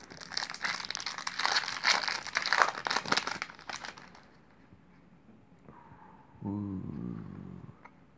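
Crinkly foil wrapper of an Upper Deck Full Force hockey card pack torn and crumpled up close for several seconds, then quiet with a voice speaking near the end.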